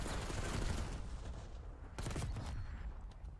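Rapid bursts of gunfire crackle through a Call of Duty esports Hardpoint match, dense and continuous with a sharper volley near the middle, heard from the game audio at a watch party.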